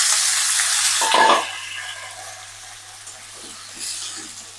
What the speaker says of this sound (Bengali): এখন রান্না করবো মিষ্টি কুমড়া তরকারি, জিরে দিছি, এখন মিষ্টি কুমড়া দিয়ে দিব